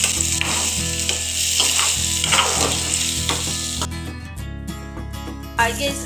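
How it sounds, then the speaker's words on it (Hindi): Onions fry in hot oil in a pan alongside peas for puff patties, a steady close sizzle with stirring, as someone talks over it. "तो अब ये मैं इसमें प्याज को भून लूँगी ऑयल में।"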